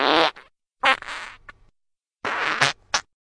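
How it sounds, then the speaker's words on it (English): Three loud, close fart sounds from a text-to-speech animated sibling scene, each a short bursting blast with gaps of silence between them, the last one brief and sharp. "I am gonna fart right now."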